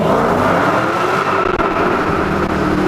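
A Dodge Challenger SRT Hellcat V8 engine roars continuously and loudly in a tunnel, its sound filling the enclosed, echoing space, with a steady rev throughout.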